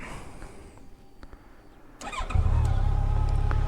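A Yamaha FJR motorcycle engine cranks briefly amid faint clicks, then catches and settles into a steady, close idle.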